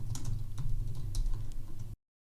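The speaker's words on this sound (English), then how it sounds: "as you're typing out your prompt" Fast typing on a computer keyboard, soft close clicks in an irregular patter over a low hum, lasting about two seconds before cutting off.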